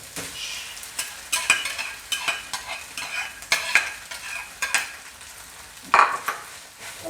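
Rice stir-fried with hot dog and egg in a pan, with repeated scraping and tossing strokes of a spatula over a constant sizzle and a sharper metallic clank near the end, no talking.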